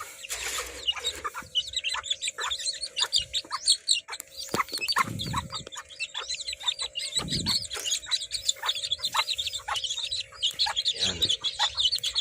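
A Serama hen and her chicks cluck and peep steadily inside a coop, with dense, rapid chick chirps over occasional soft hen clucks and brief low handling thumps close by.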